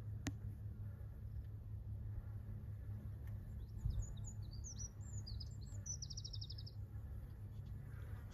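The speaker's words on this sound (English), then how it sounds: "so we've got a couple of willow warblers and a little family group of" Willow warblers and whitethroats in song along a wooded edge at Coombe Bottom, Ventnor: brief, faint high chirps and a short trilling phrase from a distance over a steady low rumble, with no talking.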